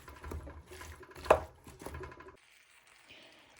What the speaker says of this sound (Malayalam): ഇതെല്ലാം കൂടി ഒന്ന് ഇളക്കി യോജിപ്പിക്കാം.